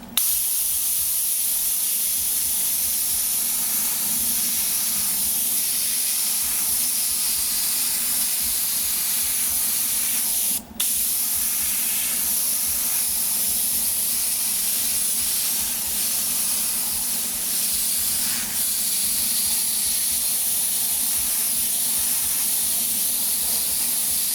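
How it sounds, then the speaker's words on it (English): Airbrush spraying paint in a wide pattern: a steady, bright continuous hiss held close and even for the whole stretch, broken once by a brief click, with no talk. "we got a nice wide spray"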